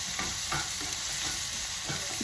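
A spoon stirs coriander and turmeric powder frying in a pan for sarson da saag, with irregular scraping strokes over a soft continuous sizzle and no voices.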